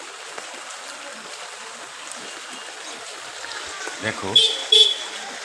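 Floodwater covering a busy, congested road makes a constant washing, trickling hiss, with a couple of car horns and someone speaking nearby toward the end.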